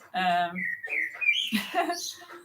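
A blackbird sings in a forest, a loud, clear run of fluting whistled phrases followed by quicker chirping notes, close to the listener and mostly alone, though a voice may briefly overlap.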